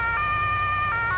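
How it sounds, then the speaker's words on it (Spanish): A loud emergency vehicle siren from an Emergency Pack mod in Farming Simulator 22 wails steadily and close for the whole short stretch, with no voices over it. "También se puede prender la sirena"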